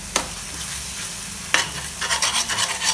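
Spices sautéed in a pan for vegetable kurma, a steady close sizzle broken by two sharp spoon knocks, then rhythmic stirring scrapes toward the end.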